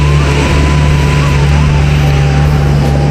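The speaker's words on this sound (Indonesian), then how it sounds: "Dari arah Muara Bulian masih berguyur truk batubara lewati lintas pacu penerokan" Coal trucks rolling past on a busy road in Muara Bulian, Indonesia during morning traffic, a loud, close, steady engine drone with a low rumbling hum, under faint talk.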